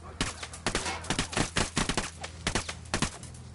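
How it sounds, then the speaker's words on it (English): Gunfire in the Ghost Recon Wildlands video game: close, loud, irregular shots and short bursts, one after another with brief gaps, over a low background rumble. "Shit, he knows he's taking fire."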